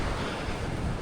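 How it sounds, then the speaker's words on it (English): Wind gusts high up in a tree, a loud continuous roaring rush buffeting the microphone for the whole moment. "It's windy."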